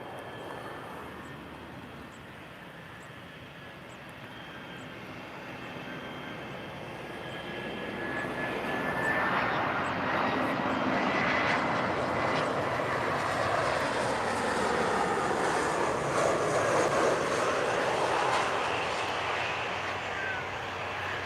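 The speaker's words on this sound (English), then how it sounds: "Here it is, coming in. Our next piece of action in this one, a landing." An airliner comes in to land, its jet engine roar building from a distant rumble to a loud, broad wash that holds steady as it passes close by, with no talking.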